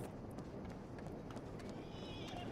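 Horse hooves clip-clopping in the Red Dead Online video game, a steady trotting rhythm under game ambience with some voice activity mixed in.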